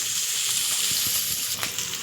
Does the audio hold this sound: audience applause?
no